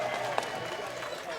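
A crowd at the Glasgow 2014 Commonwealth Games cheers for Scotland in a continuous roar mixed with scattered clapping. It comes from a large arena audience, with a voice speaking over it.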